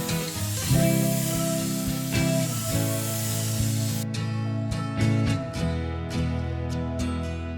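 Spray paint hisses in long continuous bursts over furniture, loud and close, with short pauses between passes and no talking.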